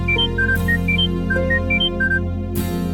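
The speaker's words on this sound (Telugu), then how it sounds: "అల్లుడి గారు ఫోన్ చేస్తున్నారేంటి?" A phone ringtone plays a bright, repeating electronic melody of short chiming tones for an incoming call, loud and clear throughout over a low steady background hum, with no talking over it.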